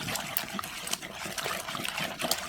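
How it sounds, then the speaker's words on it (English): Water is poured into flour to make dough in a village kitchen, producing close, uneven trickling and splashing with small bursts as the liquid lands, and no talk. "I'm gonna put water like this, and then I'll mix the water with the flour very well"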